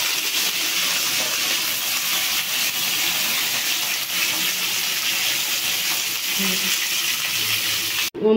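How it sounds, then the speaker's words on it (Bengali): A hilsa fish head fries in oil in a wok, producing a steady loud crackling sizzle that runs unbroken for several seconds before cutting off abruptly. "কড়াইতে তেল দিয়ে দিচ্ছি মাছের মাথাটা ভাজবো বলে।"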